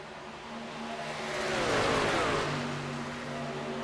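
Pickup trucks in a racing series roar along the Michigan International Speedway track, their engines swelling as a pack sweeps past and then fading into a steady background drone.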